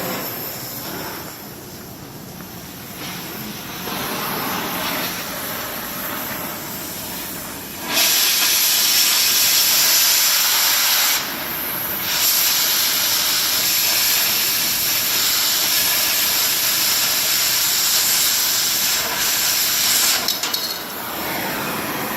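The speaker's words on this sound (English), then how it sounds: "Now let's cut some metal." Gas cutting torch slicing through preheated metal: a steady, loud roaring hiss that jumps louder partway through as the oxygen cut begins, continuing as a dense blast with brief dips, no voices.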